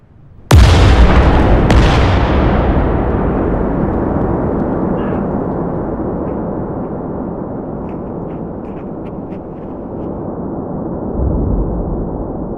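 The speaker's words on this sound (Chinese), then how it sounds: "距离第一次爆炸过后4分钟，又迎来了第2次爆炸，这几乎要毁掉整个 Pepcom。" Massive blast at the PEPCON chemical plant: a sudden loud boom followed by a second crack, then a long rumbling roar that slowly fades, with faint crackles and a late swell.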